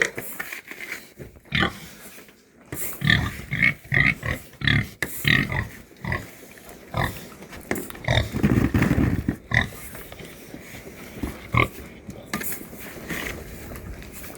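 Pigs at a farmyard feeding grunt and oink in repeated bursts as they eat, loud and close, with some clanking of feeding gear over about fifteen seconds.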